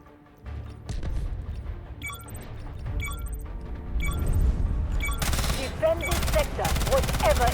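A Vector submachine gun fires rapid automatic bursts in the Delta Force video game. It starts with scattered shots, then long, loud, close full-auto strings with brief pauses, and a player talks softly underneath.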